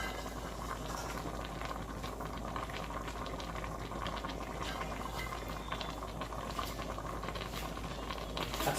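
Collard greens boiling in a pressure cooker, a soft continuous bubbling and patter of simmering liquid, faint and steady throughout.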